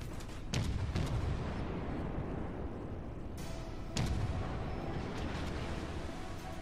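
Warship torpedo and gun fire in the naval battle game World of Warships Legends, with heavy booming blasts at intervals, a few sharp louder bursts standing out over a constant rumbling battle din.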